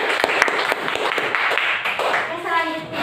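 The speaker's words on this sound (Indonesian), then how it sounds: "Tepuk tangan untuk kelompok." A classroom of students claps for a student group, a busy, fairly close patter of hands that runs throughout and thins toward the end, with light chatter mixed in.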